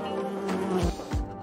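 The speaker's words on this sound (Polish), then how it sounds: "Kiedy pszczoła znajduje się w powietrzu, skrzydła powodują wibracje, które ludzkie ucho interpretuje jako bzyczenie." A flying bee's wings buzz in a steady, close drone for about a second and a half, with a couple of low swooping shifts in pitch as it moves.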